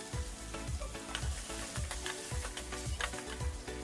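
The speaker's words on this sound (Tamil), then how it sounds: "வெங்காயம் நல்லா வதங்கி வரணும்." Steady sizzling of onions sautéing in a frying pan, with a rhythmic scraping stir repeating about every half second, close and fairly loud, no talking.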